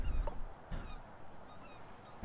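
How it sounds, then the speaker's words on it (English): A few faint honking bird calls, meant as a seagull in the game Flotsam, sound as short scattered cries over a quiet ambient bed. "A seagull over there."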